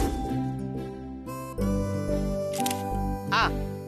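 A camera shutter clicks in a scene from a Tamil TV serial, with a few brief, crisp snaps heard over steady background music.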